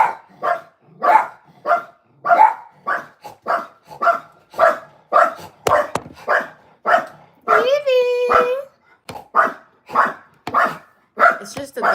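Several dogs bark over and over in quick bursts close by, reacting to a person walking a dog past, with a high whine or yelp in the middle and a voice talking through the barking.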